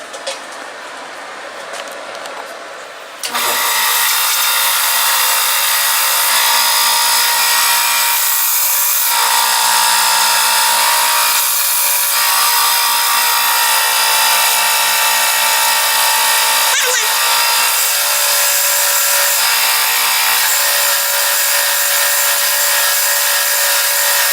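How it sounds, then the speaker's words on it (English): Steady, rough rasping of sanding on the wood of a passive iPhone speaker, a continuous scratchy hiss that starts abruptly after a few quiet seconds and carries on without pause. "when you sand something, it is rare that it will be done on the first sanding"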